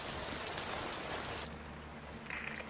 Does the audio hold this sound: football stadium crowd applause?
no